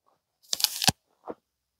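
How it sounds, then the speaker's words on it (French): Someone takes one crisp, close bite into an unripe red-fleshed columnar apple, followed by a shorter, softer second crunch. "si vous voulez voir dans la pomme, je peux croquer dedans"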